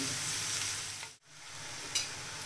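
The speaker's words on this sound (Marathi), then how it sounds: "मी कांदा छान असा परतून घेणार आहे" Chopped onion sautéing in a pan over a full gas flame, a steady close sizzle with a brief stir that dips the sound for a moment before the frying resumes.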